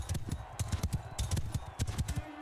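Horse hooves clip-clop in rapid galloping rhythm in the Roman-era mod of Mount & Blade II: Bannerlord, close and steady with dense repeated strikes throughout.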